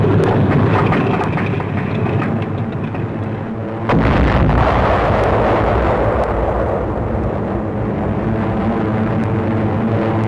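Anti-aircraft flak explosions during wartime airborne operations with a stricken C-46 transport, heard as continuous loud booming rumble and roar, with a sharp break midway before the dense blasting noise resumes.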